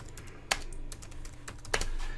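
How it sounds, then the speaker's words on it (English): An IP route command is typed on a computer keyboard in a short burst of close key clicks, with two sharper strikes over a low hum. "So what you have to do is you have to type in an IP route"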